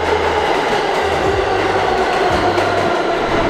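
New York City subway train running, a loud, continuous rumble with rhythmic clickety-clack of wheels over rail joints and faint squeal, close and steady throughout.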